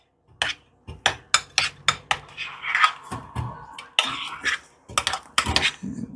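A metal spoon stirs potato filling in a bowl for twice-baked potatoes, giving a run of sharp clinks and scrapes against the bowl in an uneven rhythm, close and fairly loud, with no talking.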